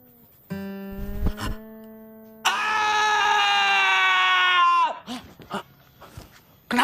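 A person screaming in a sustained, loud, strained wail lasting a couple of seconds, preceded by a tonal hum and followed by scattered thumps and bursts of noise.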